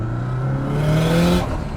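A turbocharged, engine-swapped Subaru 2.5RS revs up quickly with a rising whine, climbing in pitch over about a second and a half before easing off; no talking.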